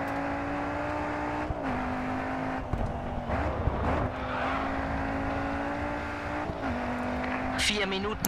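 A racing car engine in the Grid 2 video game drones steadily throughout, holding pitch with a few dips and shifts and a squeal-like rise near the end, while a voice talks over it.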